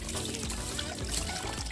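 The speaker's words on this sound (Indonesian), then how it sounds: "Jadi kita siram dulu aja kayak begini" Water is poured over a two-month-old baby civet during a bath, a soft, continuous trickling splash at close range.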